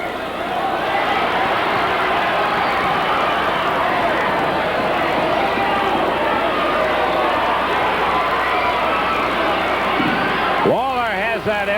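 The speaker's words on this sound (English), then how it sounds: "Big crowd in the Louisville Gardens in Louisville, Kentucky." A big wrestling crowd packs Louisville Gardens in Louisville, Kentucky, a dense steady roar of voices and cheering that stays loud throughout, with a commentator talking over it.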